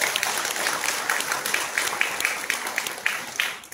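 Audience clapping at a Buddhist literary jubilee celebration, a dense steady patter of many hands at moderate distance that tapers off near the end, with no speech.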